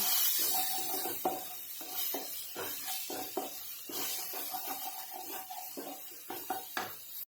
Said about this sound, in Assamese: এনেদৰে আপোনালোকে আকৌ প্ৰায় 2 মিনিটমান সময় ভাজি থাকিব